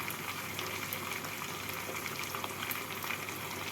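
Rui fish simmers in masala over a medium-low gas flame, giving a faint, steady bubbling sizzle that stays even from start to finish, with nobody speaking.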